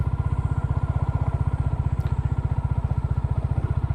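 A Royal Enfield Classic motorcycle rides an off-road trail, its single-cylinder engine thumping in a fast, steady, evenly pulsing rhythm, close and loud throughout with faint rattling over the top.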